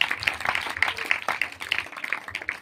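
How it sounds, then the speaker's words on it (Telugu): A church congregation claps in a steady, rhythmic beat, moderately loud and fairly close, with soft voices mixed underneath. "చప్పట్లు కొట్టండి, గట్టిగా"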